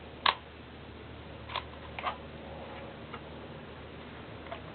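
The shutter release of a Polaroid pack-film camera such as a Reporter or EE100 gives one sharp click, followed by a few fainter ticks and clicks, close and quiet, with nothing else audible.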